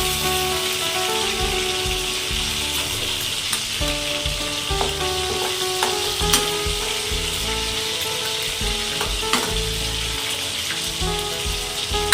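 Hilsa pieces finish frying in hot oil, a dense continuous close sizzle with occasional soft clicks and stirring scrapes as the fish is lifted out one by one, no voices present.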